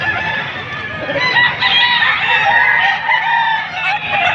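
A Golden Boy local banded gamefowl rooster at a chicken market in Padre Garcia, Batangas, crowing loudly and close, its drawn-out call sustained over several seconds with faint background murmur.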